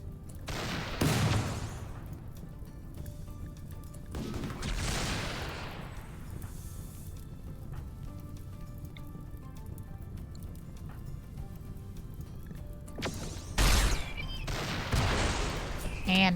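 Gunfire in the Rimworld video game comes as a few loud bursts of volleyed shots, one early, one a few seconds later and one cluster near the end, over a constant low game background.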